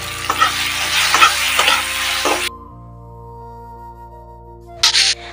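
Boiled potatoes with dried chili paste sizzle in a pan while a spatula scrapes through them in regular strokes, close and loud for a few seconds. The sound then cuts to a quiet hum, and a brief burst of sizzling follows near the end.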